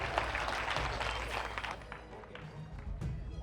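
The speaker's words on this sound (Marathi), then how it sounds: "जोरदार टाळ्या होऊन जाऊ दे." An audience at a Savitri festival event in Sinnar, Nashik claps throughout a hall, a busy, fairly distant wash of hand claps with low background rumble.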